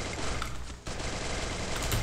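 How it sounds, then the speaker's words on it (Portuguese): Rapid automatic gunfire in the Free Fire video game, a dense continuous burst with a brief break, loud and close with no talk over it. "Um tiro"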